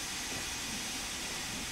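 A steam locomotive in the video game Train Sim World 2 pulls away, giving a steady, loud hiss of steam over a low rolling rumble that lasts throughout.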